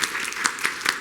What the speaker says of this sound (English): Big round of applause for Stuart.